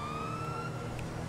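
A police siren in the video game GTA 5 wails steadily in the background, its rising and falling tone sitting over a low engine rumble, with no talking.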